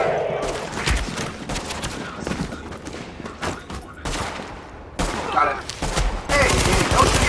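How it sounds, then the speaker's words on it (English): Small arms gunfire rattles through a firefight in The Division, dense overlapping shots and short bursts from several weapons, some near and loud, others farther off, with brief pauses between. "Taking small arms fire!"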